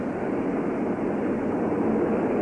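A dense, steady roar of many Luftwaffe bombers and fighters crossing the English Channel in massed flights, loud and unbroken throughout with no voices.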